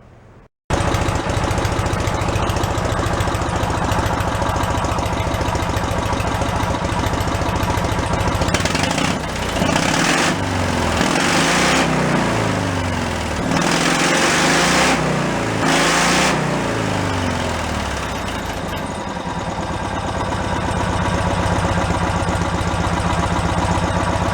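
Cushman meter maid engine fitted with a custom exhaust, running loud and close with a harsh, steady drone that roughens and pulses midway before settling back to a constant idle.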